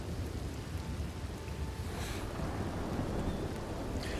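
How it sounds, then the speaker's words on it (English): Rain and thunder in the game Red Dead Redemption 2: a dense, steady rain hiss with low rolling rumble underneath, continuous and fairly quiet throughout, no voices. "I just think the rain plus the thunder sometimes gets so freaking loud."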